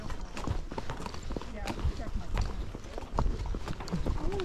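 A Tennessee Walking Horse's hooves clip-clop at a steady walking rhythm on a ranch, mixed with faint rustling and background murmur.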